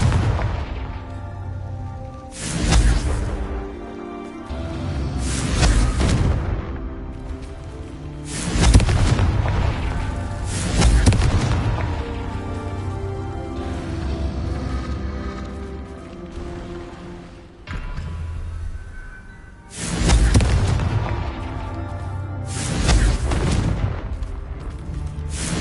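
Confringo spell explosions in the Hogwarts Legacy video game, a series of heavy booming blasts about every few seconds, each with a sharp onset and a long rumbling decay, loud and close with no talk.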